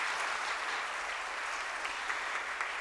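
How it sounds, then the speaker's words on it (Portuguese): A round of applause at a formal solemn session awarding the Tiradentes Medal, continuous even clapping from a sizable audience, steady and fairly loud throughout. "Peço uma salva de palmas, por favor."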